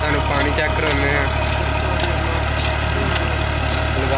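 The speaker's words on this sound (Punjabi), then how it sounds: "ਕਾਜ਼ੀ ਟਰੈਕਟਰ ਆ, ਚੱਲ ਗਿਆ ਬੋਰ" Ghazi tractor powering a tubewell bore through a shaft system, a loud, steady low engine drone running close by with water rushing over it and speech faintly underneath.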